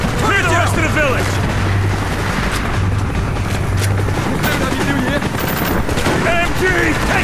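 Rapid machine gun fire rattles nonstop in Call of Duty: Black Ops, loud and dense, with bursts, explosions and shouted voices layered throughout.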